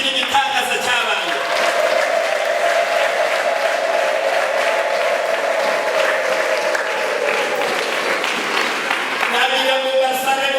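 Sustained applause fills a packed church gathering celebrating children given by God, a dense, steady wash of clapping from a large congregation that holds strong for about ten seconds before easing slightly at the end.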